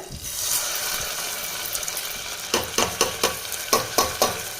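Baby food ingredients fry in a pan, a steady sizzle running throughout, with a series of sharp, rhythmic stirring scrapes in the last two seconds, close and moderately loud.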